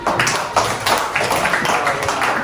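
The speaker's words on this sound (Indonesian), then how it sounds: "Baik, tepuk tangan untuk Sisi." A classroom of students gives a short burst of applause for a classmate named Sisi, dense overlapping claps close by, steady for a couple of seconds with no talk over it.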